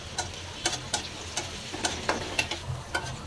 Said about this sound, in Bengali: এখন রসুন পেঁয়াজগুলো একসাথে দিয়ে দিলাম